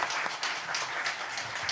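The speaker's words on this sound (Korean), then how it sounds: "여기에 있는 우리 청년 세대에게 뜨거운 박수를 부탁드리겠습니다." Brief applause from the audience at a panel discussion on Northeast Asian diaspora youth, a soft, moderately distant patter of clapping.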